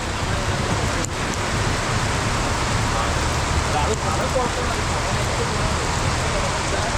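Steady rain hisses down in a constant wash, with a couple of faint knocks and a voice speaking briefly over it.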